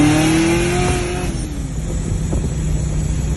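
A 6th gen Chevrolet Camaro under wide open throttle revs up then falters, its engine note rising before dropping off abruptly as the car bogs and struggles, loud and close with no talk.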